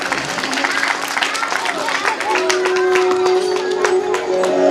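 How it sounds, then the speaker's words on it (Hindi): An audience at a Shrimad Bhagwat Katha gathering claps loudly in a dense, steady burst of applause that runs throughout, with a voice speaking over it. "जरा जोरदार ताली बजा करके स्वागत करें"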